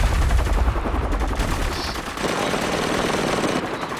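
Sustained gunfire from the Spec Ops: The Line video game, a dense, loud rattle of rapid shots that runs continuously throughout without pause.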